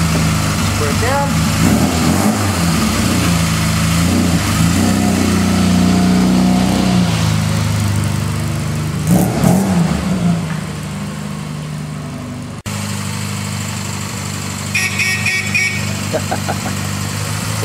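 A small sports car's engine runs and revs as it is rolled out, a steady mid-pitched drone with a few rising throttle blips, heard close up beneath ongoing speech.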